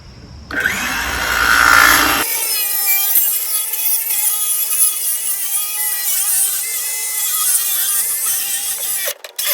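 A power saw fitted with a new blade cuts a strip off plywood, a loud steady whine with a rasping, tonal cutting roar that holds for several seconds before stopping abruptly near the end.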